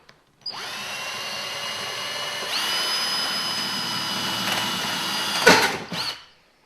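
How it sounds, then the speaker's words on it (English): A battery drill whirs steadily for several seconds, drilling holes in a chassis panel, its pitch rising as it bites into the material, then a short rattling burst before it stops. "First we need to drill just a couple of holes in the panel."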